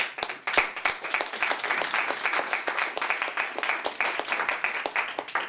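A pantomime audience applauds the performers with dense, brisk clapping that holds steady and fairly loud throughout, with no voices rising above it.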